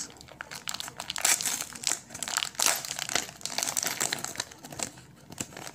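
A plastic packet of 3x25 mm JP screws is torn open by hand, giving close, irregular crinkling and crackling rustles that come in bursts.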